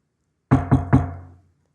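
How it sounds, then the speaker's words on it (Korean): Three sharp knocks on a door in quick succession, close and fairly loud, the last one ringing out briefly before silence. "이 노크 소리를 들었을까요?"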